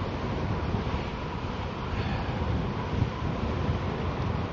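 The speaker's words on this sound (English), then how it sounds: "Pretty windy today. I can feel that wind." Steady wind roars and buffets the microphone while riding an electric folding fat bike, a constant low rumbling rush with no voices.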